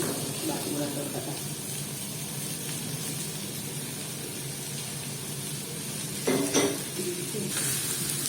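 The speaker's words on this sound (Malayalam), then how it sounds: "ഇതിന് നന്നായിട്ട് ഇളക്കി കൊടുക്കാം." White radish thoran frying in a pan while being stirred, a steady sizzle and hiss running throughout with occasional scraping stir sounds, close and moderately loud.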